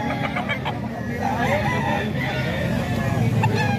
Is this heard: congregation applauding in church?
no